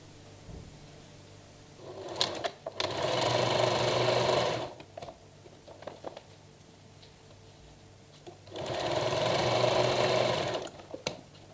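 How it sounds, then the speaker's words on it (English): A sewing machine stitches fabric bag pieces together in two steady bursts of whirring, rapid stitching separated by quieter handling, clicks and fabric shuffling, close up and alone. "So I'm just going to sew the others together"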